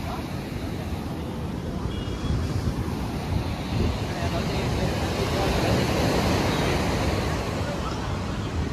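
Ocean surf washes continuously onto the beach at Vizag, a broad rushing roar mixed with gusting wind buffeting the microphone and occasional voices nearby.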